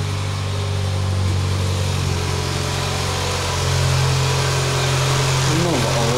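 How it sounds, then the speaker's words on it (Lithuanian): Cold Fiat Seicento 0.9L engine idling, a steady close mechanical drone with a continuous low hum and a slight rise partway through, and someone speaking over it. "Einam pažiūrėm, kaip varikliukas pašaltas dirba."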